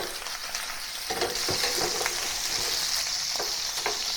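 Chicken frying in a pot for a Chinese-style one-pot stew sizzles steadily and loud, with occasional stirring scrapes breaking through the hiss.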